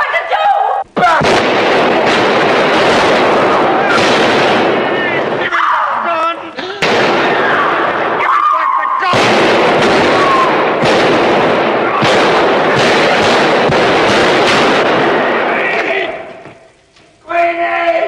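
Video game gunfire, a long run of loud, dense bursts and booms that keeps going with only brief gaps.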